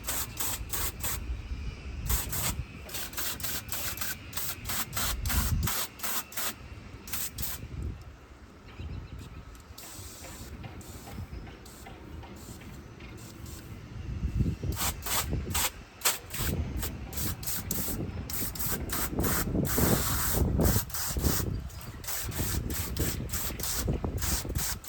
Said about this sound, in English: Now it's just time to rinse this off.